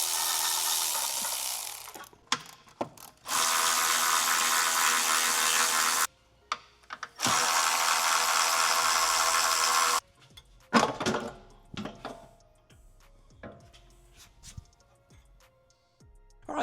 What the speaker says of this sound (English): we need to remove these factory side rails